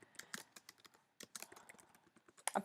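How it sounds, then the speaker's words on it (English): Keys clatter on a computer keyboard as text is entered into a font website, close, quick irregular taps in short bursts with a brief pause midway. "you can type in the text you want"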